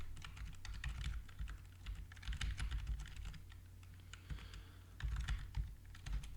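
Password being typed on a computer keyboard, with quiet, close, rapid clicking keystrokes in irregular bursts and no talking.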